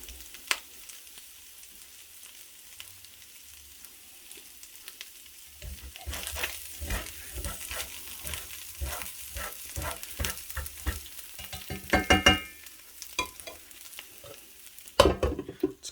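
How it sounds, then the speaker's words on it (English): Corned beef hash frying in a pan and being stirred, first a quiet low sizzle, then a busy run of scraping, clattering stirs over steady crackle, with a few louder knocks near the end. "Just showing, stirring it as it's cooking."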